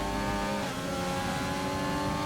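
F1 2020 video game race cars racing at the British track, with a continuous loud engine drone and a car's tone shifting as it goes past, dense and unbroken with no talk.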